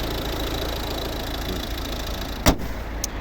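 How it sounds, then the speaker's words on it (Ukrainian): A 2012 Volvo V50 with a 1.6 D2 diesel engine idles steadily at close range. Near the end there is one sharp knock and then a fainter second one. "Класно працює двигун"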